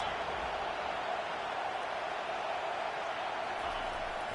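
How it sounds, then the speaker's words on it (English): Football stadium crowd at Florida vs Tennessee roars as a continuous, dense wash of noise, steady and fairly distant, without clear individual voices. "Listen to this crowd just shaking the girders of this place, trying to help their defense."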